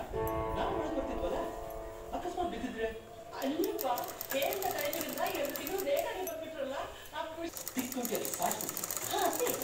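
A sewing machine stitches a puff-sleeve blouse piece in short intermittent runs of rattling mechanism, close and fairly loud, while someone talks over and between the bursts.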